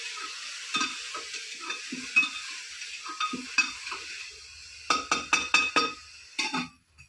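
Tadka tempering sizzles and crackles in a pan as it is stirred, with scraping strokes through the first part and a quick run of loud, rhythmic stirs near the end, then a fade.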